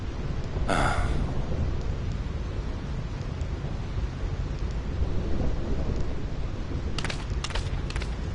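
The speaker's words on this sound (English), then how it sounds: "This storm never stops." A steady roar of heavy rain fills a thunderstorm in Final Fantasy X, with a sharp thunderclap near the start and a few crackling strikes toward the end, and no talking.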